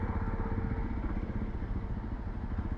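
A Jawa Bobber 42 motorcycle engine runs with a steady, throbbing mid-pitched rumble, close by and constant throughout, with no voices over it.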